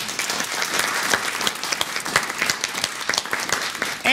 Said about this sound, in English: Please join me for a big round of applause to both of the coaches of the teams